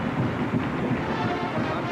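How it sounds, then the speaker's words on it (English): A 1978 Oklahoma football crowd roars in the stadium during the game against Texas, a dense continuous rumble of distant cheering that fills the whole moment without pause. "Now the Oklahoma crowd has picked up."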